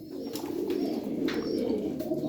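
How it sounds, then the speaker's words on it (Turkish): Soft, steady cooing of pigeons in a coop fills the clip, a low continuous murmur from several birds close by, with faint chirps above. "Miski var, dumanlı var, mavi var, çok güzel kuşlarımız var."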